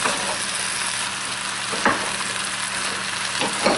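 Cabbage, sausage and potatoes sizzle steadily in a frying pan while being stirred and tossed, with a few soft scrapes of the utensil against the pan.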